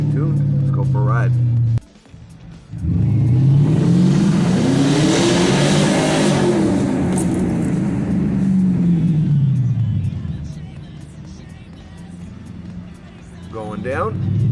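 A car engine revs up and down while driving, a loud nearby sweep of acceleration that rises and falls, briefly cutting out near the start, with people talking over it at moments.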